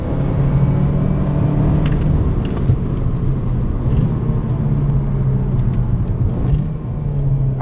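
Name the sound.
exhaust pops from Abarth 595 Competizione during heel-toe downshift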